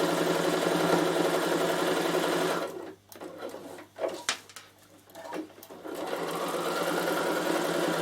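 A Bernina sewing machine stitches fabric in a steady, close mechanical whir for about three seconds, halts into a quiet gap with a few soft clicks and handling noises, then resumes its even running hum to the end.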